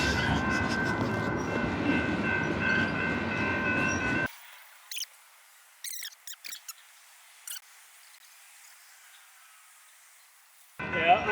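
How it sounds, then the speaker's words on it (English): A long train rolls past at close range, a loud steady rumble with wheel clatter for about four seconds, then cuts to near silence with faint scattered clicks before a brief loud burst at the end. "These trains are pretty long."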